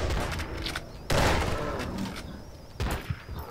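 Gunfire in a zombie shooter video game, a few loud sharp shots and bursts with rumbling decay, close and punchy, no talk.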